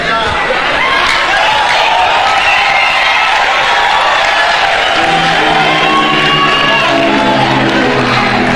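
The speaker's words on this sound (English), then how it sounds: "Why are you clapping?" A church congregation erupts in loud clapping, shouting and whooping, a dense roaring crowd noise throughout with raised voices calling out over it.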